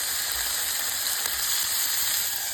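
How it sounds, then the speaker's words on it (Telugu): Two small cut tomatoes fry in a pan with chillies and cumin, giving a loud, steady sizzle that carries on without a break and has no voices over it. "టమోటా ముక్క మెత్తబడేంత వరకు మనం వీటిని వేయించుకోవాలి."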